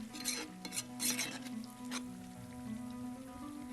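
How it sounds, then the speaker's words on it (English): Potatoes and onions frying in a pan for a Spanish omelette, with a steady soft sizzle and several brief stirring scrapes early on, fairly quiet. "While the potatoes and onions are cooking"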